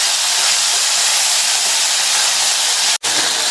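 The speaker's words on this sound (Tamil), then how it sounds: "இந்த தக்காளியும் கொஞ்சம் வதங்கி வரட்டும்." Chopped tomato sautéing in a pan for a chayote dish, a loud, dense, continuous sizzle close by, cut by one very brief dropout near the end, with no voices.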